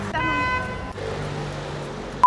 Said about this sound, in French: et les motos partout, oh mon dieu, et les klaxons